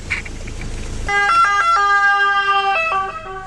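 A fire engine siren starts up loudly and nearby on a foggy motorway accident scene, its two-tone wail holding steady and alone after a moment of road noise.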